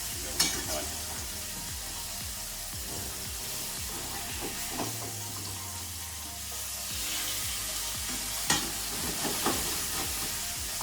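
Tandoori-style lamb chops coated in a yoghurt marinade fry in a pan with a loud, constant sizzle, broken by a few sharp spatula clinks and scrapes against the pan.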